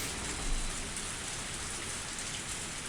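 Steady rain falling in the Higurashi visual novel game, a dense, continuous patter of drops hitting surfaces, even and fairly close throughout with no voices.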